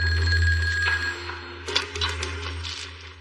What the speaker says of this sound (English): The phone rings from the dispatch center